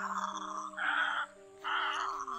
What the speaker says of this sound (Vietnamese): Anh em lưu bản tiếng chim này Thuận đã đánh qua và bán cho một số khách quen thuộc